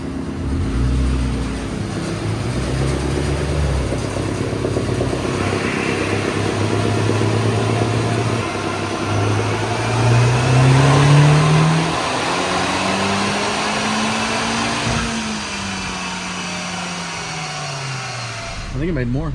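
Stock Honda Civic Type R engine revving on a dynamometer, a loud sustained run whose pitch climbs and sweeps upward over roughly twenty seconds before cutting off, with a steady mechanical roar throughout.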